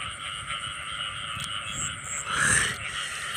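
Frogs caught in a trap croak in a loud, continuous chorus that swells near the end, with the calls close and overlapping.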